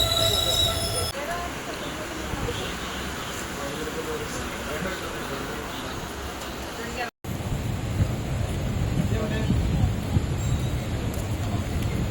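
A delayed passenger train pulls into Pattikkad station on the line toward Nilambur, its wheels squealing over a steady low rumble of rolling carriages. The noise stays loud and close, then cuts out for an instant and comes back.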